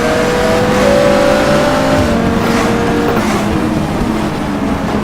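A race car engine in the GTR Evo racing game revving hard through manual H-pattern gear changes with rev-matching, a loud steady roar whose pitch climbs and dips between shifts.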